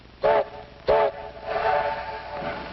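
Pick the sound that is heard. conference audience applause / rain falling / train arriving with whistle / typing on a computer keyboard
train arriving with whistle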